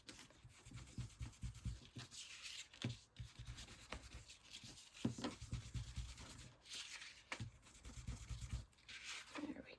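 A plain game card surface being scuffed up by hand for a craft project, giving soft continuous rubbing and scraping strokes that swell and ease in a steady rhythm, close and fairly quiet with no talk.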